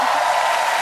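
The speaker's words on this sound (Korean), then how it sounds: "박수 한번 다시" A brief burst of audience applause after an unaccompanied Christmas carol, a dense steady patter of many hands clapping with no voices over it.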